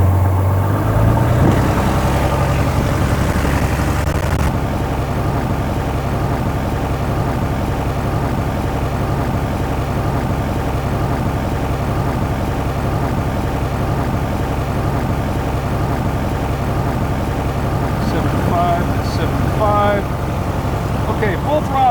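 A light aircraft's engine holds a steady, loud mid-pitched drone during a ground run-up to 1800 rpm for a magneto check, continuous and unwavering throughout.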